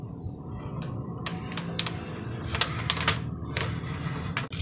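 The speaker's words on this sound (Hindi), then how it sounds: "अब मैं जो है 2 इंचेस की स्ट्रिप काट के निकाल लूँगी" Aluminium foil being cut into a 2-inch strip for a pewter-style wall hanging, a string of short, crisp snips and crinkles close by against a quiet room.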